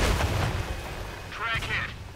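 Tank cannon fire in a tank video game as an enemy vehicle is destroyed, with a heavy low boom at the start, then a short announcer-like radio voice and metallic impact clangs.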